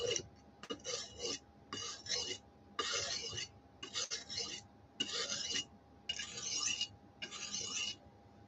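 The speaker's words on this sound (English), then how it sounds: "Let's sharpen our knife. Yes, I know this is a whetstone" A kitchen knife is drawn across a whetstone in about eight rhythmic scraping strokes, close but quiet, against a faint steady hum in the background.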